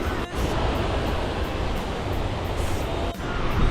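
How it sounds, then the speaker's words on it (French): Mountain waterfall in the Pyrenees, a loud, continuous broadband rush of falling water with no pauses, filling the foreground with no voices. "Ça, c'est la cascade."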